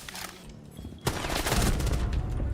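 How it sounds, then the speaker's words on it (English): Pistol fire in the tactical shooter Rainbow Six Siege: a sharp, loud shot lands about a second in, then dense, rapid gunfire rolls on to the end. "One tap with a pistol"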